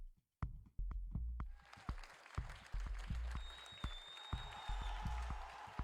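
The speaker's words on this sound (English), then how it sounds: "A tepid crowd reaction" Scattered, lukewarm crowd applause from the Blockchain Brawlers video game, a few loose claps after a sharp opening hit, with music and game tones underneath.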